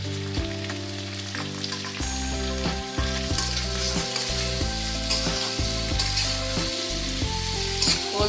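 Elephant foot yam sautéing in a pan for a coconut-based vegetarian dalna, a steady close sizzle and frying crackle with occasional stirring, carrying on throughout with no talk.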